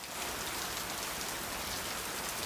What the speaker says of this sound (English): I'm turning this rain down about 4 dB